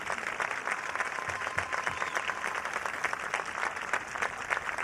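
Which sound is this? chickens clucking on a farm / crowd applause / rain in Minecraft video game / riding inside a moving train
crowd applause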